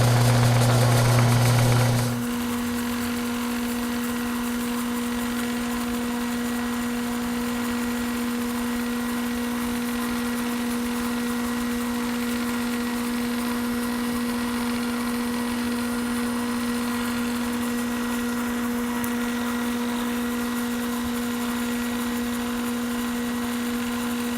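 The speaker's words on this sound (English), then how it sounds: "The first cut is going to be 2 thousandths deep. I just want to do a scratch cut." Milling machine spindle running steadily while taking a light 2-thousandths scratch cut in steel with cutting oil, a constant mid-pitched hum and drone with faint cutting noise, no talk.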